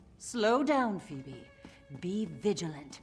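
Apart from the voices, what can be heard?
cat meowing in video game Elder Scrolls Online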